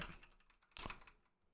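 Quick bursts of keystrokes on a computer keyboard, soft close clicks in a short uneven run with one sharper tap in the middle, faint and alone.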